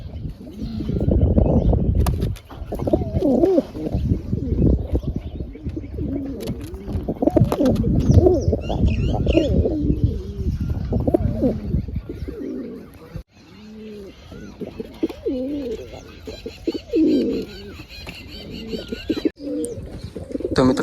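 Pigeons in a coop coo loudly and continuously, with overlapping throaty calls, brief chirps and some rustling throughout.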